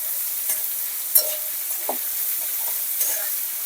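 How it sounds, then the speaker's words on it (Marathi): Chopped onion sautéing in oil in a pan, a soft steady sizzle with a few light spatula scrapes and taps; no voices. "कांदा पण आता व्यवस्थित परतून घेऊ आपण लाल होईपर्यंत"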